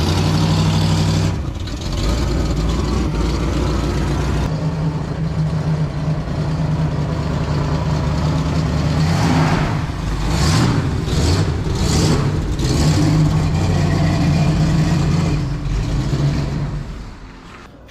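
The engine of a Hornet car runs loaded up while backing, a loud, close, steady rumbling drone that surges with revving toward the middle and fades out at the end.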